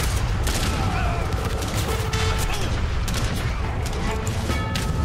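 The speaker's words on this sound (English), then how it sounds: "Fire the artillery on their artillery!" Dense battle gunfire from Age of Empires 3 runs without a break, with a fusillade of musket volleys and booming blasts in the artillery exchange, while voices shout over the steady din.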